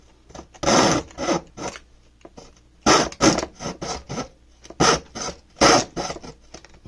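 A hand saw cutting wood for a mandocello, close and loud, with bursts of rasping strokes in uneven rhythm separated by short pauses.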